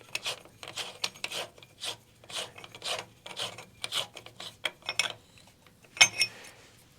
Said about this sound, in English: Once you know it's in there, then you take your socket and spin it on.